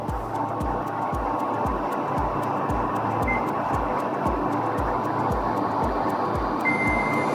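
A multimeter's continuity buzzer sounds steadily while testing a wire, a rapid regular pulsing buzz that repeats evenly throughout, close and fairly loud, with no talking.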